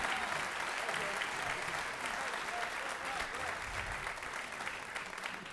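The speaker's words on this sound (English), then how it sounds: "Keep clapping for Jimmy Latini back there on drums." Steady audience applause at a high school jazz concert, a dense wash of many hands clapping continuously at even strength, moderately distant, with no music playing.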